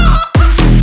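A rooster or chicken on a family property lets out a short, loud crow or squawk close by, cutting sharply through steady background noise.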